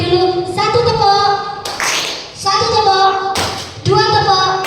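A group of people at SMA Maarif NU Pandaan playing a clapping game, with loud bursts of hand claps at intervals between voices calling out, close and lively.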